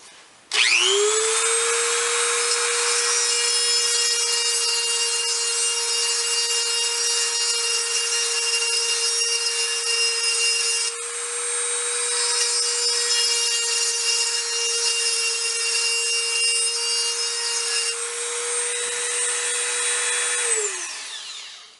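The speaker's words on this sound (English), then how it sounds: "Here's a Dremel with the 1/16 inch bit." A Dremel rotary tool fitted with a 1/16 inch bit grinds out old grout between tiles, a loud, steady high-pitched whine that runs continuously for about twenty seconds before spinning down.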